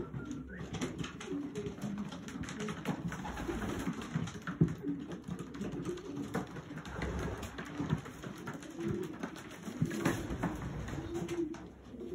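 Pigeons coo steadily through a loft kept for breeding, soft repeated calls blending into a close, busy chorus with rustling and light movement throughout.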